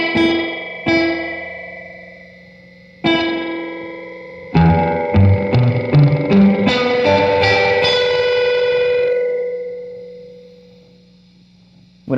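Guitar notes run through a Klempt Echolette E51 tape echo with long reverb duration, building into a dense wash of repeating, overlapping echoes that swell loudly and then slowly decay into a lingering tail.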